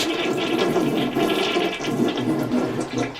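A hotel toilet with a weak flush drains and refills, giving continuous close-up swirling and gurgling water at a steady moderate level throughout, with no voices.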